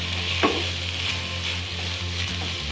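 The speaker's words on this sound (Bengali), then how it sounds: "এরপর আমরা এর মধ্যে দেবো লঙ্কা কুচি দিয়ে আবার আমরা ভালো করে এটিকে কষিয়ে রান্না করে নেব।" Chicken keema sautéing with chopped green chilli in a pan, a steady close sizzle and fry hiss with a brief stirring scrape, no voices.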